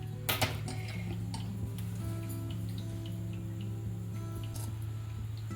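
A gas stove burner catches after a couple of sharp igniter clicks, followed by a low, steady burner hum in a quiet kitchen.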